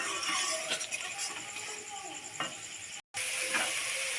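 Spice paste with a little water being sautéed in a pan for an eggplant and potato dish, a steady close sizzle with stirring scrapes running throughout; a brief break near the end.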